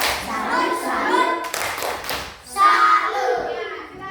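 Schoolchildren in a classroom perform a rhythmic 'tepuk salut' clapping cheer, with bursts of hand claps and chanting voices under a teacher's talk, loud and close with a pause midway.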